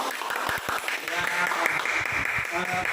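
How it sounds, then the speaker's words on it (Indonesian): Applause breaks out in a classroom, scattered claps blending under a talking voice before settling into steady clapping. "tepuk tangan buat Sumo."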